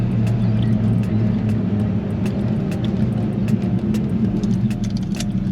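A 1967 Ford GT Falcon being driven, its engine giving a steady low rumble inside the cabin with faint rattles and clicks over the top, continuous and moderately loud with no talking.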